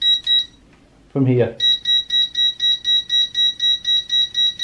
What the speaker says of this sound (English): Yes, it does make an annoying beep like the F11 does on the Z5.